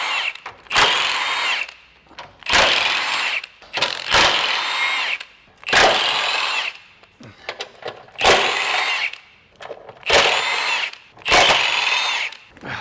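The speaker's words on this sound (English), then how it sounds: "we're gonna start by taking the bolts out of this stiffener bracket right here" Power tool working bolts out of a stiffener bracket on a 2017-2025 Honda Ridgeline during a lift kit install: about six close, loud ratcheting bursts, each lasting roughly a second, separated by short pauses.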